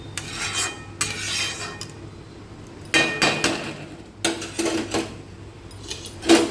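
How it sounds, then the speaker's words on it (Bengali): A metal lid goes onto a pot of vegetable dal made with curry leaves: scraping, clinking contacts come in several bursts, loud and close, with no talking. "দেখো ঢাকা দিয়ে দিচ্ছি"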